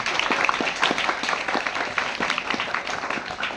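A crowd applauds steadily and warmly at a farewell ceremony for a teacher at Agasvani main primary school in Gujarat, with dense, sustained clapping throughout and a faint voice underneath.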